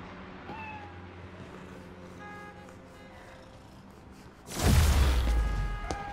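A cat in the video game Spider-Man: Miles Morales gives a few short, clear meows over a low city hum, then a loud whooshing rush of noise takes over near the end.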